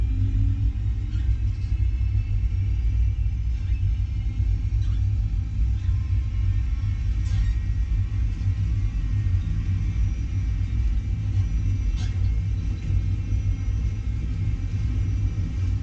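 Airliner engines at takeoff/go-around thrust during the takeoff roll, heard from inside the aircraft as a loud, steady low rumble that holds evenly throughout without a break.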